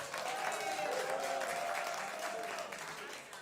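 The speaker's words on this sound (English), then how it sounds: "Can we please give her a round of applause?" An audience at a church health gathering breaks into sustained applause, a dense wash of clapping hands that holds steady for a few seconds and eases slightly toward the end, with faint voices mixed in.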